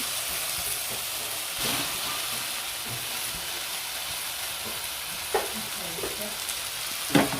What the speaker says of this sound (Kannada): ಒಗ್ಗರಣೆ ಕೆಂಪಾಗಿದೆ ಇದಕ್ಕೆ ನಾವು ಕಟ್ ಮಾಡಿ ಇಟ್ಕೊಂಡಿರುವಂತಹ ದಾಸವಾಳ ಹೂವನ್ನು ಹಾಕ್ಕೋತಾ ಇದ್ದಾರೆ